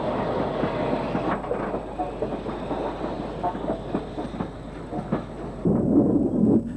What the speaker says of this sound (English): And another Johnson Midland 3F, number 43605